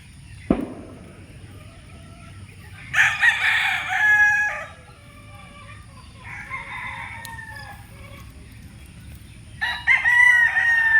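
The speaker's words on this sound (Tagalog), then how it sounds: "may mga alaga silang manok, barabong." Chickens cluck and a rooster crows a few times at moderate distance, in short bursts separated by quiet outdoor background.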